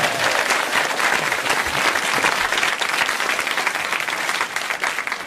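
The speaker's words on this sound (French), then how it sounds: "je vous demande d'applaudir Pierre Bénichou" A studio audience applauds Pierre Bénichou on a French television show, with dense, loud, sustained clapping throughout and no talk.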